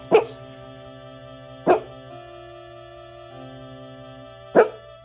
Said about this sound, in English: She never barked consciously, but in her sleep, she was battling demons.